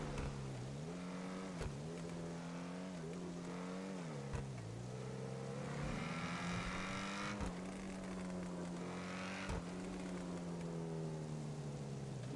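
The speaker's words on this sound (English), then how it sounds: "Listen to this little rice rocket. Sounds like a motorcycle, doesn't it?" A small Jugular sports car in GTA V drives with a steady, buzzy engine drone that sounds almost like a motorcycle, its pitch dipping and rising through several gear changes, loud and close with no talking.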